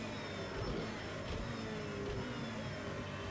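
A McLaren P1 GTR racing car in the Project Cars 2 video game gives a steady, loud engine drone at high speed, holding a constant roar with a faint whine riding over it for the whole stretch.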